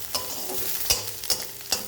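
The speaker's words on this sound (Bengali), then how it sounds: "পেঁয়াজগুলো একটু ভেজে নেবেন।" Onions fry in a pan for a red lentil dal: a steady, full hiss of hot oil broken every half second or so by sharp spatula scrapes and stirring clicks, close and without talk.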